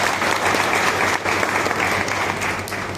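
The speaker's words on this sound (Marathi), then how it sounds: "त्यांच्यासाठी एकदा जोरदार टाळ्या" Loud, steady applause from an audience at a public gathering honoring banana farmers, dense clapping sustained throughout with a brief dip near the middle, no voices over it.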